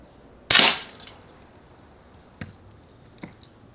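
A pump air gun charged with five pumps fires a BB at a can and cardboard target: one sharp, loud crack near the start, followed by two faint distant ticks later.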